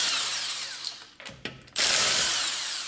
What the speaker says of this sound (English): So I'll take my little impact wrench here, which I absolutely love.